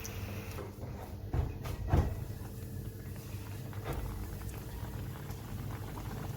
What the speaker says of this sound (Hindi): तो अब इसको मैं निकाल लेती हूँ और दूसरे समोसे फ्राई होने के लिए रख देते हैं।